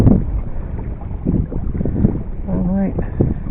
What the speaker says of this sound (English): Now it's pretty windy right here.